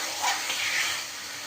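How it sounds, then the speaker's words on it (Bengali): Meat with marinated spices, oil, salt and turmeric sautéing in a pan, with potatoes to follow, giving a steady close sizzle and hiss that runs unbroken throughout. "মশলার মধ্যে সমস্ত মশলা দিয়ে মাংসটা দিয়ে এখন কষাবো"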